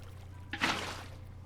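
A placed bucket of water in Minecraft releases a short, soft splashing whoosh of flowing water that rises quickly and fades over about half a second, over a faint steady hum.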